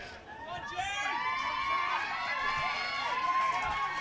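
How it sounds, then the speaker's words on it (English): Crowd cheering at a varsity athletics race finish as runners enter the final 100 metres, with a steady, moderately loud wash of voices and shouts lasting throughout. "The crowd cheering on the competitors as they enter the final 100 metres."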